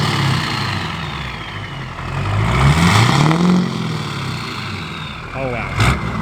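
A Duramax diesel pickup fitted with an S400 turbo and 100-over injectors revs up and settles back, its deep engine rumble swelling in the middle and running steadily close by.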